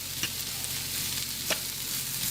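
Carrots and celery, leftover shredded carrot salad, cook in a pan with a little olive oil, giving a steady soft sizzle with a few brief stirring scrapes, close and even throughout.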